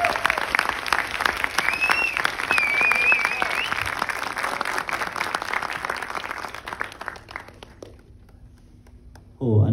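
An audience at a movie premiere applauds, a dense sustained wash of clapping that gradually thins and fades out near the end, with a few voices mixed in.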